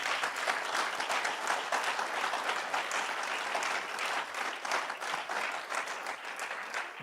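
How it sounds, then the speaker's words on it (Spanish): Church congregation applause, a loud dense wash of many hands clapping close by, sustained and fairly even for about seven seconds with no talking over it. "Denle un aplauso al Señor"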